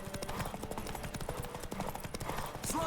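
Roach the horse galloping in Witcher 3, a steady rapid clip-clop of hooves on a road, close and fairly quiet, with a brief louder burst near the end.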